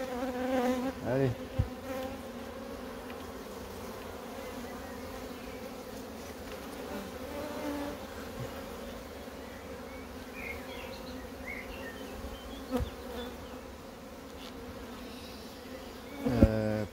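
Honeybees drone at an open beehive during an inspection with supers, a steady close buzzing swarm throughout, a short spoken word and some handling knocks near the start and end.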